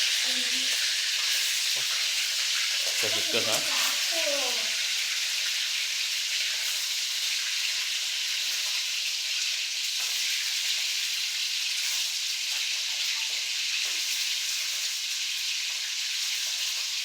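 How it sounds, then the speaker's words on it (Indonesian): Spicy chicken frying in a pan gives a steady, loud sizzling hiss that runs the whole time, with a few brief voices and some clatter near the start. "Goreng sih"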